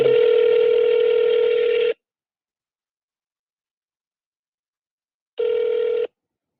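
Two tones from a mobile phone call on a Verizon Wireless line: first a long steady ringback tone for about two seconds, then silence, then a shorter repeat. Both are loud and clear with no voices.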